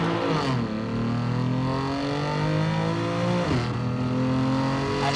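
A BMW M3 inline six-cylinder engine making 450 horsepower revs hard under acceleration. Its loud, close rising howl drops sharply at each gear change and then climbs again.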